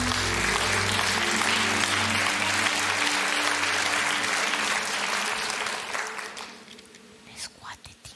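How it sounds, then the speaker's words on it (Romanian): Audience applause after a magic trick at a televised talent show, a dense sustained clapping crowd that thins and fades out over the last couple of seconds, with some voices mixed in. "Aplauze pentru șapte de romb"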